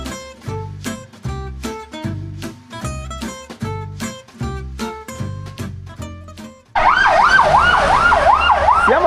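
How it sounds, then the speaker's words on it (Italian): An ambulance siren sounds at a road accident on a main road: a repeated rhythmic two-tone pattern, then a loud, close wail that rises and falls continuously. "adesso l'ambulanza"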